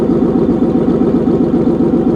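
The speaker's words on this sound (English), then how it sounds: "this is what it sounds like when the valves are open" Deep, rumbling exhaust of a boosted Nissan VQ-engine car idling with its exhaust valves open, a loud steady burble pulsing in a fast even rhythm, close up.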